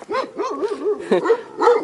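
Dogs barking and yapping rapidly and close by, a busy run of overlapping high-pitched barks and yips.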